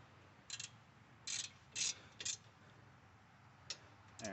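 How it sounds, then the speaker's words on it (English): A ratchet wrench tightens brake caliper bolts during a brake job, giving several short, close bursts of rapid clicking separated by pauses over a quiet background. "Ratchet, because it's ratchet. It's ratchet wrench."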